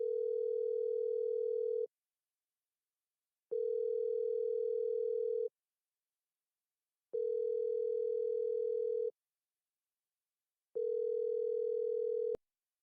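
Outgoing phone call back ringing: four steady electronic ringback tones, each about two seconds long, separated by silent gaps of similar length, clear and alone, ending abruptly with a click.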